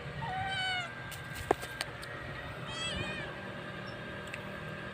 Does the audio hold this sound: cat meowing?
yes